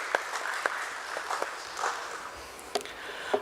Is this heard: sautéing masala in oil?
no